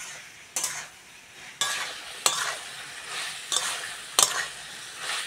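A spoon stirs a Bengali vegetable curry frying in a pan, with five or six sharp scraping strokes bursting over a steady background sizzle.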